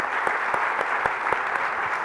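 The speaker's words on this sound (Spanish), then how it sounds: "Les pedimos con este aplauso a quienes nos acompañaron en este segmento." Audience applause at a summit panel session, steady dense clapping throughout with a few louder individual claps standing out, moderately near and filling the whole stretch without talk.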